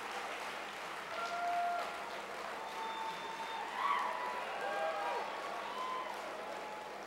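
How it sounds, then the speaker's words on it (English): Applause from a crowd at a political gathering in Rhode Island, faint and distant, a soft steady patter with scattered cheers and whoops rising above it. "I hope the cameras are getting all this applause because it feels good up here"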